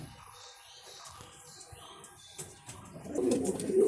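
A racing pigeon coos softly nearby in low, faint murmurs, with a rising background noise toward the end.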